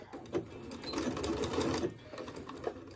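A sewing machine stitches a row of a disappearing nine patch quilt block, a quiet, steady mechanical whir with faint needle clicks, close by and without talk.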